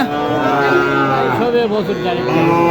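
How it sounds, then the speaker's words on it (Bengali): A local Bangladeshi cow at a cattle market in Kolahat, Naogaon, gives one long, loud, close moo that rises and wavers across the whole span, with no one talking over it. "এখানে দেখেন খুব চমৎকার একটা গরু দেশি গরু"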